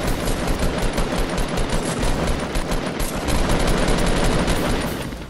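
Enemy gunfire in the video game Fortnite, a continuous rapid automatic burst of shots, loud and dense for several seconds with no gaps.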